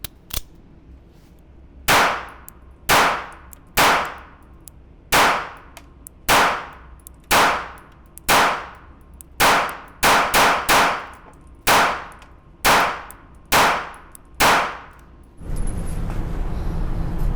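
Fifteen sharp, loud 9mm pistol gunshots are fired from a fully loaded SPD 15-round magazine at a steady, deliberate pace, with a few quicker doubled shots near the end, followed by lingering outdoor noise.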